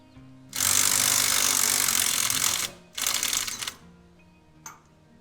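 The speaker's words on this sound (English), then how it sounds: "I think now we can get it with a impact." An impact wrench loosens the large blade nut on a Land Pride 60-inch rotary cutter, firing in a loud sustained burst of about two seconds, then a shorter burst and a brief final tap.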